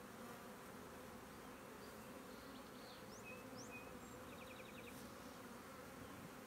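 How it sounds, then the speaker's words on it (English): Honey bees buzz steadily around a hive frame of brood, a dense continuous droning swarm close by and fairly faint, with a few light clicks and chirps scattered over it. "shake these bees off"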